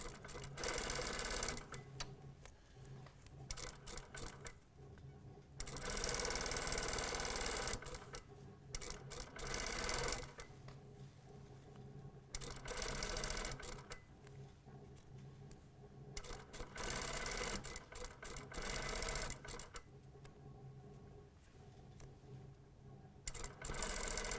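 A sewing machine stitches zipper tape onto a front-zip vest, running in several loud bursts of rapid stitching separated by short pauses, with no talk.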